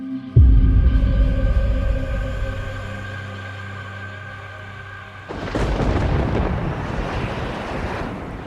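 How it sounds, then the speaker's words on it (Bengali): A deep rumble rolls in and fades, then a gusty, roaring rush of wind and rain takes over, steady and loud with no voices. "মেঘের ডাকে আর ঝড়ের শব্দে ঘুম ভাঙল।"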